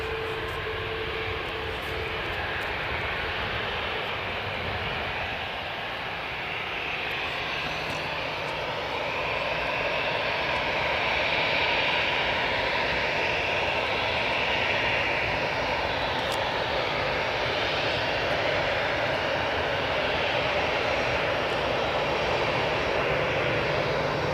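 Jet airliner rolling down the runway at Newcastle Airport, a loud, steady engine roar with broad rumble and whine that swells slightly partway through and holds on, heard from a distance outdoors.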